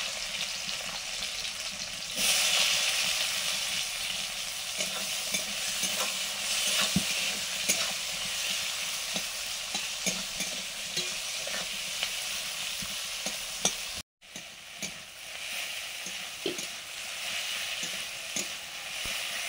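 Chopped onion sizzles steadily in hot mustard oil for a light meat curry, with close, continuous frying hiss, occasional stirring scrapes and a brief break near the end; no talking.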